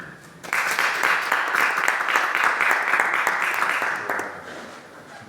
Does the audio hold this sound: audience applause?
yes